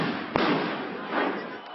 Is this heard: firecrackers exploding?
yes